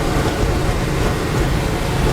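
A 1971 Chevrolet C10 pickup engine braking in second gear down a long hill, a steady loud low drone of engine and road noise with no pauses.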